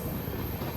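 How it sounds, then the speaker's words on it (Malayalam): A Kerala passenger train with brand-new LHB coaches rolls slowly toward Parassala, giving a steady, muted rumble of wheels on track heard from inside, faint and even with no voices. "നമ്മുടെ ട്രെയിൻ പതുക്കെ പൊക്കോണ്ടിരിക്കുകയാണ്."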